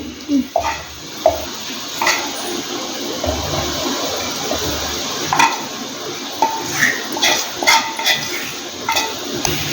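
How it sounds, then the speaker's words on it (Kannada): Water poured into a mixer grinder jar of cooled fried masala for a farm country-chicken sambar, heard as a steady close splashing and trickling wash with a few small clinks. "ಸ್ವಲ್ಪ ನೀರು ಹಾಕತ್ತೀವಿ"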